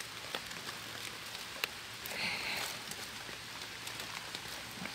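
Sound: rain falling while picking mushrooms

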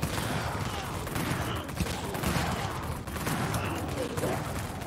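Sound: gunfire in a video game

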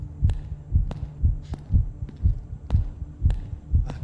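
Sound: heartbeat sound in video game Night People

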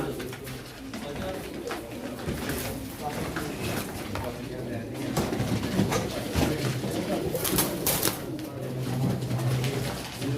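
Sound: pigeons cooing at a pigeon auction

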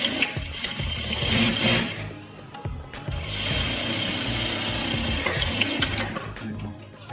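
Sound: sewing machine stitching a pant pocket

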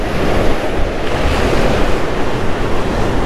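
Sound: ocean waves breaking at rough jetty

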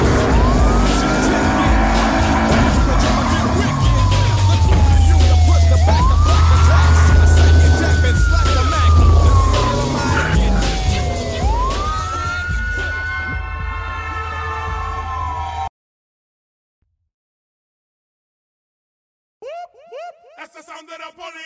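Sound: police car siren in video game Battlefield Hardline

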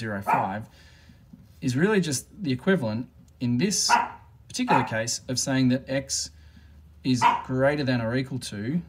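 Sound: dog barking

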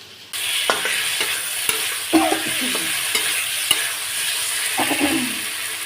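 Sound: fish and potatoes frying and being stirred with spices

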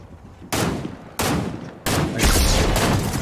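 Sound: gunfire in Fortnite video game

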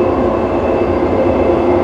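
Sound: Dubai Metro train running fast on tracks

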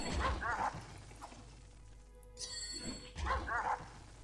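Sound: dogs barking in the video game Dungeon Siege

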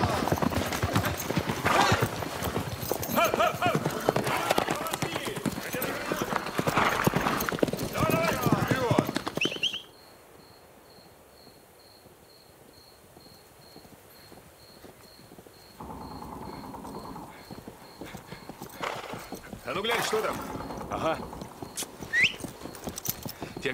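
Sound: horse hooves clip-clopping and neighing

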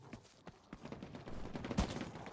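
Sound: gunshots from The Cycle: Frontier video game

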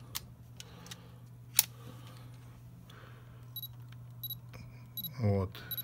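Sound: camera focus beep and shutter release

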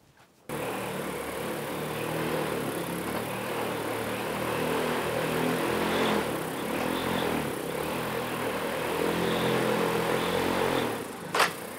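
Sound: heavy lift drone propellers spinning at 20% throttle

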